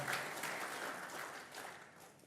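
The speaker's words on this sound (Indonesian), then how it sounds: "Tepuk tangan sekali lagi untuk para panelis dan moderator." Audience at a panel discussion opening at a policy institute applauds panelists and moderator, a fairly faint, even patter of clapping that slowly tapers off.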